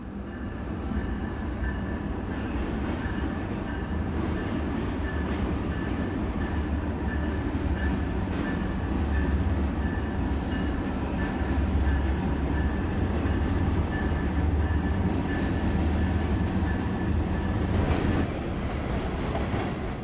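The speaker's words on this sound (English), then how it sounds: "I managed to catch a Union Pacific eastbound crossing the Sacramento River" A heavy Union Pacific freight train rumbles across a bridge over the Sacramento River at a steady roar, wheels clacking over the rails, continuous and fairly loud for the whole stretch.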